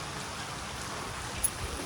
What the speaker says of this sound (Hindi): आहिस्ता आहिस्ता तेज़ हो रही है बारिश।